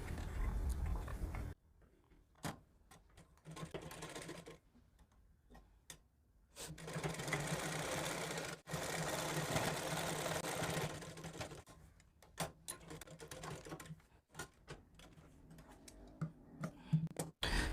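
A sewing machine stitches a folded blouse hem in several bursts of rapid, even needle clatter, separated by pauses with softer handling noises and small clicks.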